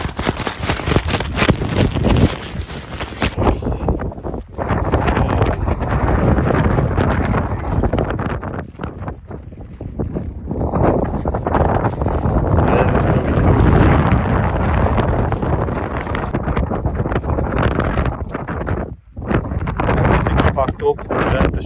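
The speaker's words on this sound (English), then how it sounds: "I do not want to go out in this wind" Strong wind buffets a tent during a backpacking trip, a loud, continuous gusting roar with rustling and flapping that rises and falls throughout, close to the microphone.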